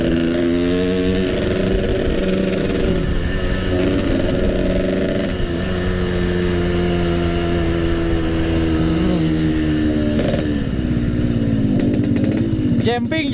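A Yamaha RX King two-stroke motorcycle engine revs loudly and continuously nearby, its steady buzzing drone rising and falling, with a sharp rev burst near the end.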